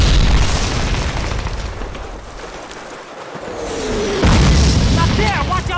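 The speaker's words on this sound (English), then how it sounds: "I don't know if a mine or artillery got me here." A mine blast in the first Call of Duty: heavy booming rumble opens loud, fades into a low roar, then a second sharp explosion bursts in late, with crackling debris after it.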